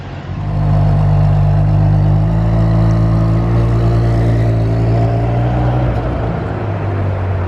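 A Ferrari 599 GTO passes close by in Monaco, its engine a loud, steady droning growl that holds for several seconds and eases slightly near the end.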